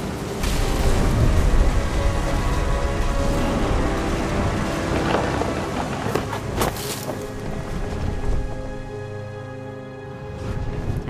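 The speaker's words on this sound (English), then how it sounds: "The thunder sounded much too close and full of angry power." Thunder and rain in the video game What Remains of Edith Finch, a loud, rumbling storm with low booms and a steady wash of rain and wind that swells and fades across the scene.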